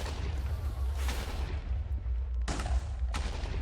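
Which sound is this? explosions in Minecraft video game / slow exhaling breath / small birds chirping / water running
explosions in Minecraft video game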